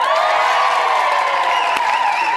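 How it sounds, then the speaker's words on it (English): A studio audience at a televised Celebrity Big Brother spin-off show cheers and whoops in a steady, dense burst of crowd noise that fills the whole moment without a break. "Now you can cheer."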